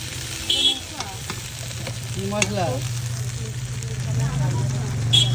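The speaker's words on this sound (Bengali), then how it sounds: "এখন চলে যাচ্ছে পেঁয়াজ দেখো পেঁয়াজ চলে যাচ্ছে" Onion goes into hot oil for a fish curry and fries with a steady sizzle, punctuated by brief voices and a few clinks nearby.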